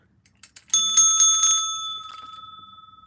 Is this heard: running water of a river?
no